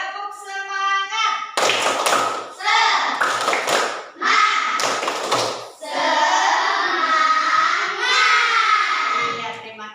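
A class of schoolchildren claps out a rhythmic spirit clap in bursts of quick, sharp hand strikes, with their voices chanting and calling between and over the clapping.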